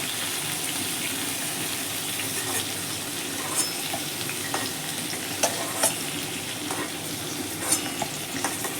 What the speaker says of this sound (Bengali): পটল দেখুন আমার লাল লাল করে ভাজা হয়ে গেছে